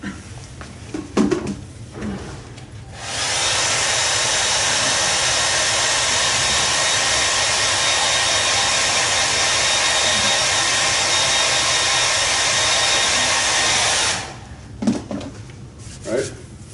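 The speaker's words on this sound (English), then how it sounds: "let me hit it with a hairdryer" A handheld hair dryer blows on an acrylic painting canvas, starting abruptly and running as a steady loud whooshing roar for about ten seconds before cutting off, with brief talk and handling noise before and after.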